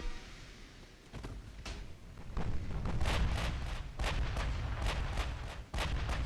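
Naval gunfire from warships in the Ultimate Admiral naval battle game, a rapid series of loud booming shots, sparse at first and then dense and overlapping, with no talking.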